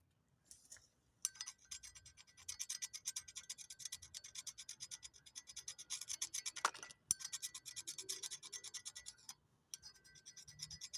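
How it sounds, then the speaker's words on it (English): Rust being scrubbed off the hub of a 2014 Volkswagen CC with a wire brush during a driver-side hub bearing job: fast, rhythmic, close scratching strokes that run in bursts with brief pauses and one sharp click. "you want to make sure you get all this rust off in here too."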